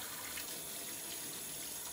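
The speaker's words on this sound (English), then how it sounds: "Always remember to wash your hands." Tap water runs steadily into a kitchen sink during hand washing, a soft, continuous splashing hiss that stays even throughout.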